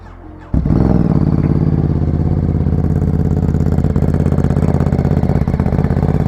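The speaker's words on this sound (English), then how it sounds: "let's get a cold start because I know you guys want to hear what this Ducati sounds like" A Ducati motorcycle engine with only 777 miles fires up from cold after a brief starter crank, then settles into a loud, close, lumpy idle with a steady throbbing pulse.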